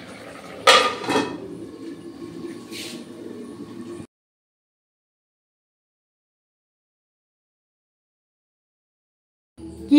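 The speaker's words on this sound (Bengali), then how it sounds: "ঢাকনাটা দিয়ে দিই।" A metal lid set onto a pot of light pabda fish curry, giving a sharp clank followed by a brief rattle, then kitchen background noise before the sound drops to silence.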